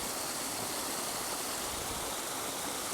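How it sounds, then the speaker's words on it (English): A stream's rushing water makes a steady, even hiss of broadband noise, fairly faint and unbroken, with no voices present. "I can hear the rushing water."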